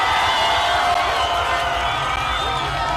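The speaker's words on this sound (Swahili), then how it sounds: "Mpigie yeye makofi" A big outdoor political rally crowd in Western Kenya roars with cheering and clapping, a dense, continuous wash of noise with voices mixed in.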